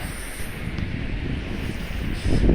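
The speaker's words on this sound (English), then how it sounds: "when you get anywhere close to the seashore, or the sea where the waves actually are, you are going to be hearing a lot of wind." Strong wind buffets the microphone at the seashore of Gould's Inlet beach on Saint Simons Island, Georgia, a steady rushing roar with the low wash of nearby waves beneath it.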